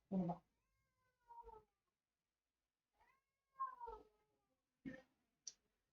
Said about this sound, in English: you can see my cat is making a lot of a noise here